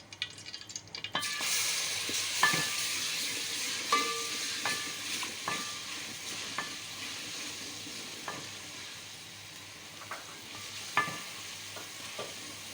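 Ginger and garlic sizzling in hot oil in a home kitchen pan for aloo palak, with a steady close-up fry and repeated sharp clicks and scrapes of a spoon stirring throughout.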